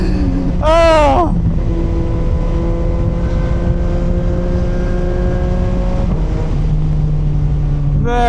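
A 2025 CFMoto 675SR-R motorcycle engine drones loudly and steadily with a sustained tonal whine, a sharp rev rising in pitch near the start and a shift in tone around six seconds.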